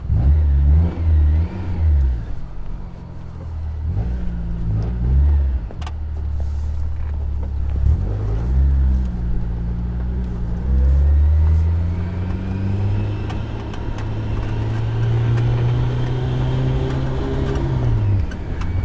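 A Kraftwerks-supercharged Honda S2000 CR pulls away and accelerates, its engine climbing through repeated revving sweeps with gear changes between them, then holding a long, loud, steady high-rpm drone heard from inside the cabin.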